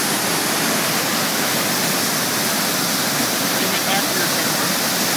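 Shovel Creek waterfall with a heavy flow of water roars as a loud, steady, broadband rush that fills the whole stretch.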